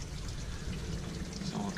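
Homebrewed beer poured slowly from a bottle into a glass, a steady low liquid trickle and gurgle running close and continuous throughout, with no speech over it.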